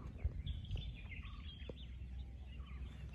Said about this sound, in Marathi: चारी बाजूनी पक्ष्यांचे आवाज येत आहेत.